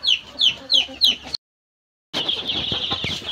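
Chickens in a poultry brooding house cluck nearby in a quick series of short calls after being given water, then after a brief silence a busier stretch of clucking and clatter.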